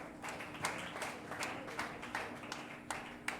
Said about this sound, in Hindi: और ताली बजा लो।